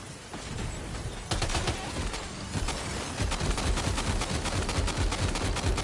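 Gunfire in the game Death Stranding 2: On The Beach, with a fusillade of rapid shots that starts abruptly and keeps going, loud and continuous, with no voices.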